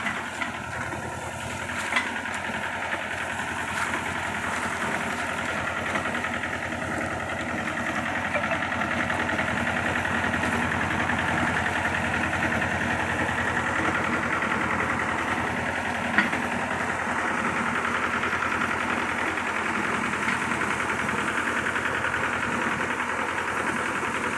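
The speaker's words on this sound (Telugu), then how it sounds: "ఇలా ట్రాక్టర్ చిన్న ట్రాక్టర్ సెటప్ అంటే స్ప్రే వ్యవస్థ" A small tractor engine fitted with a spray system idles steadily at close range on a mango farm, with a low continuous rumble and slight knocking vibration throughout, no voices.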